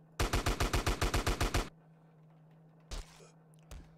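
Rapid burst of about eleven AK rifle shots in a multiplayer war video game, loud and evenly spaced, followed by a pause and two later isolated gunshot bangs.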